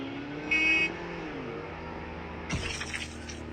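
A car engine hums steadily as the vehicle is driven in a battle royale video game, with a brief electronic beep early on and a crunching impact later.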